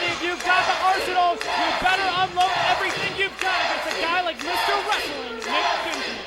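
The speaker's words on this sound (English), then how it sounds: "you hear Jessie's name being chanted all over the city" A wrestling match crowd chanting a wrestler's name in Mr. Wrestling Nick Dinsmore vs Jessie James, loud rhythmic massed voices rising and falling throughout, close and filling the arena.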